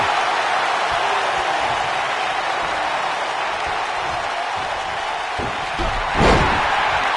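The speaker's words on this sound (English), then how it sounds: "Dropped him with a big shoulder tackle" A body slam lands with a heavy thud in a wrestling video game, one sharp impact near the end of the clip over a steady roar of arena crowd noise.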